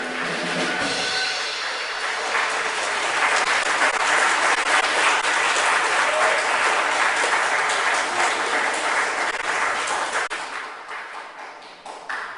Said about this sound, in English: you should give yourselves a standing ovation